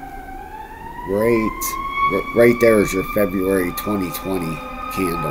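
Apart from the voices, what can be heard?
ambulance siren passing in the background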